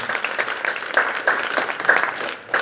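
An audience claps for a speaker at a talk on local organic farming, a steady wash of hand claps with a few sharper individual claps standing out, fading slightly toward the end.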